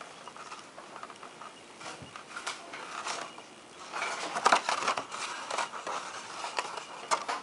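Scissors cutting paper for a die-cut suitcase mini album, a quiet close run of small snips and rustles with a few slightly louder cuts near the end.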